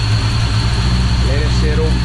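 Car engine fitted with a custom grind Hurricane cam idles steadily with a low rumble and constant vibration, while voices speak over it near the end.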